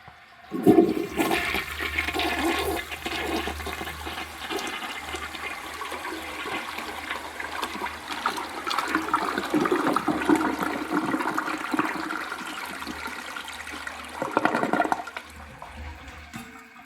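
A yellow 1977 Briggs Abingdon toilet mounted on a test stand flushes, giving a continuous rushing and gurgling water sound throughout, with a louder surge near the end as the bowl begins to overflow.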